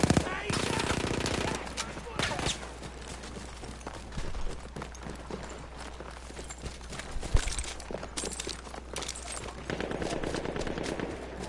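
Automatic gunfire in a 5v5 team deathmatch video game, with dense rapid bursts of shots, loudest at the start and returning in stretches, under a continuous busy mix of game sounds.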